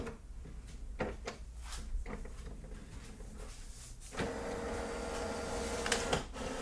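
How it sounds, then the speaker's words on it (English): An Epson WorkForce Pro WF-4820 printer feeds and scans pages, giving a series of clicks and mechanical knocks followed by a steady whirring drive motor, close and fairly loud. "The printer will take page by page and scan them."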